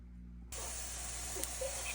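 Onion and garlic dropped into a heated pan: a sudden burst of loud, broad sizzling that starts abruptly after a quiet moment and keeps hissing steadily, with faint crackles on top.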